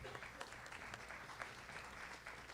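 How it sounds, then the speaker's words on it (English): An audience at a high school senior awards ceremony applauds steadily, a dense, even patter of many hands heard from a distance at low level. "Go ahead. Clap it up."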